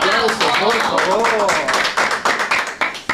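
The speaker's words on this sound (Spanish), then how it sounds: "Vamos, un aplauso, por favor." Applause from a studio audience on a live talk show, a burst of clapping with individual claps standing out near the end, mixed with voices and a lively background.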